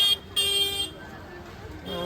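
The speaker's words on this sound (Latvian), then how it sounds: "Nu, taurītis kā vienmēr." Car horn honking in a busy street market, two loud blasts at the start and a third near the end, with background crowd and voices.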